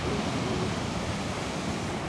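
Black Sea surf of force 3 to 4 on the shore, a steady, full-band wash of breaking waves rolling continuously at close range with no voices.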